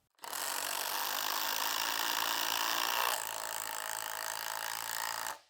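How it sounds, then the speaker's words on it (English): Two 12V brushless impact drivers, a Bosch and a Hyper Tough, drive GRK screws into wood one after the other. A loud, steady whirring hammer lasts about five seconds, shifting pitch partway through, with no talking. "So we're going to do a quick driving shootout here with GRKs."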